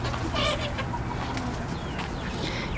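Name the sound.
young roosters clucking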